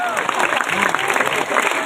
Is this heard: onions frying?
no